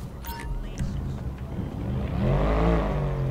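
A car engine growls and revs in GTA 5 traffic, rising to a louder, swelling roar in the second half over a steady low rumble, with muffled voices underneath.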